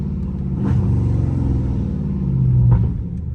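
A Dodge Scat Pack's engine revs in a low, throaty rumble that rises and swells, peaking near the end without any crackle or pops.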